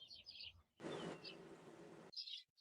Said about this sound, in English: You hear all those birds chirping?